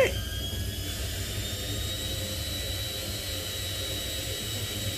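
A repaired washing machine, previously not spinning and with burnt parts, runs its high-speed spin cycle as a steady loud whirring roar with a high whine, constant throughout with no talk.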